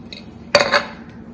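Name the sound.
spoon stirring ghee into khichdi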